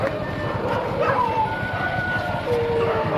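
Street dogs bark and yip at a roadside amid a constant, noisy outdoor background. The barks sound moderately distant, with faint voices mixed in.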